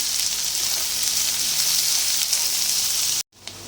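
Onions and green chillies sauté in hot oil for a paneer masala, giving a steady, close hiss and sizzle that cuts out abruptly near the end.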